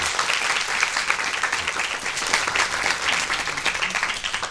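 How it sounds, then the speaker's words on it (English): An audience in a studio interview setting gives a round of applause, many hands clapping in a steady, moderately loud wash lasting a few seconds. "deserves a big round of applause"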